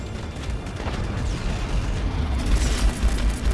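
A beam cannon is blown apart in the space combat game Strike Suit Zero, a dense rumbling boom and crackling explosion rolling on loudly and steadily with a heavier surge near the end, without any talking.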